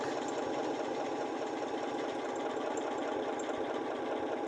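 Janome 6700P sewing machine stitching an embroidered leaf with a short stitch length, a fast steady mechanical whir and rapid needle chatter running continuously, close up and without talk.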